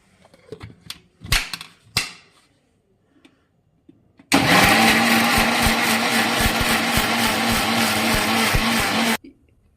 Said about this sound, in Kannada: ಈಗ ರುಬ್ಬೋದಕ್ಕೆ ಒಂದು ಮಿಕ್ಸಿ ಜಾರ್ಗೆ